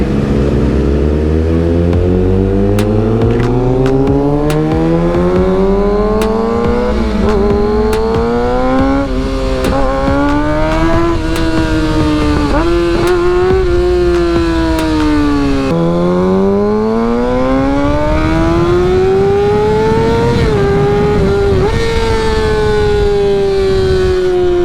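A Kawasaki ZX6R motorcycle ridden along a boulevard, its engine revving up through repeated climbing pitches with shifts between, loud and close, riding continuously without talk.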